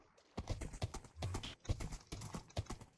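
Rhythmic horse hooves clip-clop in a Minecraft-style survival game, a steady run of close, loud hoofbeats across the whole stretch with no talking.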